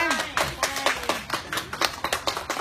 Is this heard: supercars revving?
no